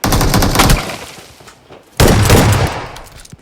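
Video game gunfire crackles in rapid, loud bursts, a dense volley that fades out, a brief lull, then another sharp run of shots.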